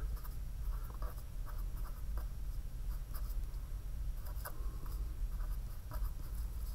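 A hand writes out an equation, making soft, scratchy strokes that come in short separate bursts over a low, steady background hum.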